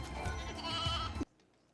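Sheep bleating in the role-playing game Final Fantasy XIII-2, a short, close wavering cry over game ambience that cuts off abruptly into near silence.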